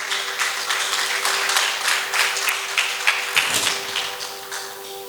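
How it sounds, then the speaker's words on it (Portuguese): A church congregation applauds during a morning worship service, a steady mid-level patter of many hands clapping for several seconds, with a sustained tone held underneath. "Aplauda ao Senhor, você que entendeu essa palavra"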